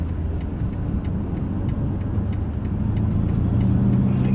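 A BMW M5 CS sedan drives at speed, its steady engine and road rumble filling the cabin and rising slightly toward the end, with no talk.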